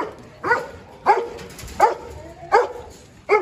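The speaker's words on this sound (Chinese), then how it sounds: "哇塞，杜宾啊" Doberman dogs at a large kennel bark in five evenly spaced, sharp barks, moderately close and loud over a low background hum.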